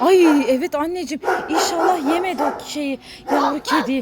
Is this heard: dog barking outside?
yes